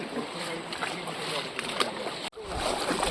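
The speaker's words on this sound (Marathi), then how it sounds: "पाण्यातून चालतो आपण पाणी बघा किती आहे" Footsteps wading through floodwater near a bridge, a continuous close sloshing and churning of water that cuts out briefly, then returns with a louder splash at the end.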